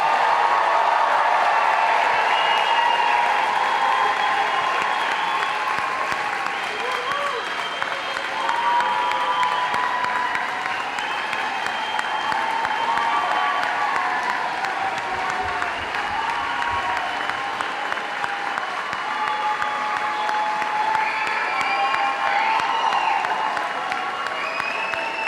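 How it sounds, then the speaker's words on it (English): Sustained applause from a large audience at the 2016 Utica Academy for International Studies graduation ceremony, dense steady clapping with scattered cheers carrying on without a break. "let's continue that applause one more time for our UAS class of 2016"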